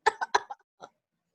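A few harsh, dry bursts from one person coughing nearby, four close together and then a quieter one after a pause. It fits a sick mouse character.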